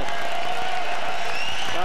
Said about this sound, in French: Stevenson qui est applaudi, il le mérite bien.